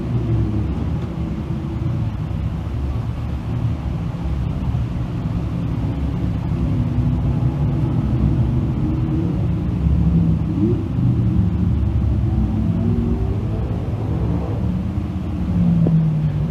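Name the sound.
dirt track sportsman race cars running a heat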